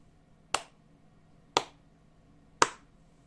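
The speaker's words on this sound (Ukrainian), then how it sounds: "я вам буду зараз плескати, а ви на таку кількість моїх оплесків будете показувати мені відповідну цифру" A teacher claps hands for a counting game in a math lesson: three single sharp claps about a second apart, crisp and close in an otherwise quiet room.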